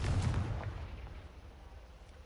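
A Confringo spell blast in a Hogwarts game, one booming burst up front with a low rumbling impact that decays into a fading tail within about two seconds.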